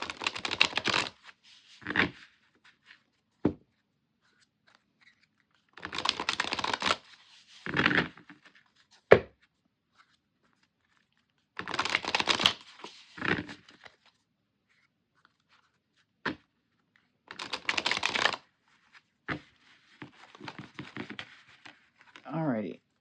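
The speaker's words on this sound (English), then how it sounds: "I can shuffle cards again." Tarot cards are shuffled in several separate bursts of quick riffling and rustling, with quiet pauses between them.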